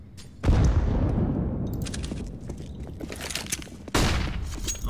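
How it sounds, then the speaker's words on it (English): A grenade is thrown in a competitive CS:GO match, a loud broadband blast that rings out and slowly decays, with clattering game sounds and a second sharp burst near the end. "Throwing a grenade."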